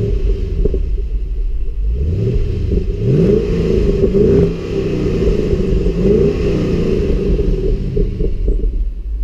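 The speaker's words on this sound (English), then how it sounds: "I'll start it up and give you a sample of that engine." A 2016 Holden Calais V Sportwagon VFII with its LS3 V8 starts up and revs, a deep rumbling idle rising into several loud throttle blips and falling back, heard close with no talking.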